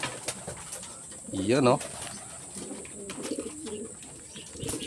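A racing pigeon, bird 829, coos once in a brief, close, rising call outdoors at its home loft, followed by softer murmuring coos, with someone talking nearby.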